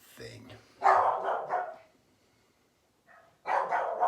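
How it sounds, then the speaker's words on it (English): A neighbor's dog barks in a few sharp bursts with a pause between, fairly close and loud. "It's the neighbor's dog too"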